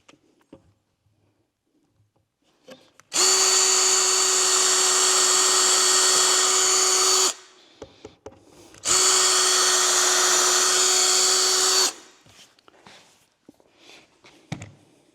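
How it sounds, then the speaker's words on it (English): A power drill drives a drywall screw into a wooden jig in two loud, close bursts of high whine, about four and three seconds long, separated by a short pause, with light handling knocks before and after. "We'll try to get the second screw in it."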